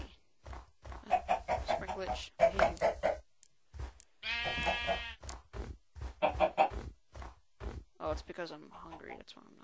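Blocky sheep in Minecraft bleat in a short wavering burst mid-clip, set among steady talk and game sounds.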